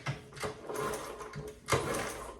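The engine of a 1970 Honda CB100 motorcycle, with no spark plug fitted, is turned over by hand, giving a few uneven mechanical churning strokes, quiet and close, with no firing.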